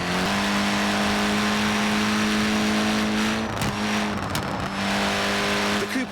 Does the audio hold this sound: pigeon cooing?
no